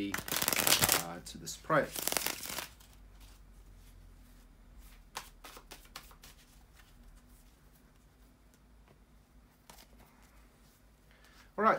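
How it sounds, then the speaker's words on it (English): Tarot cards are shuffled by hand in quick, loud riffling bursts at the start, then a quiet room with occasional soft card taps and brief speech. "just shuffle the cards and we can go straight away"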